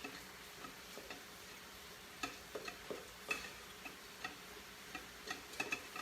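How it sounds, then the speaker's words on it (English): Cilantro being stirred into chicken in a pan for a cilantro lime chicken bowl: sparse, soft spoon scrapes and light taps at irregular intervals over a faint, quiet sizzle, with no talking. "I'm going to stir it up"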